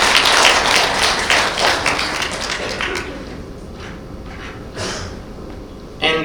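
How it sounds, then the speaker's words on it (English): Audience applause at a conference session, a dense burst of clapping up front that thins into scattered claps and fades, with a brief sharp noise near the end. "Give a round of applause."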